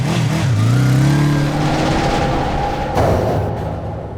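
A motorbike with two riders revs and pulls away, its engine note rising and then shifting as it moves off; the sound is loud and close, with no voices.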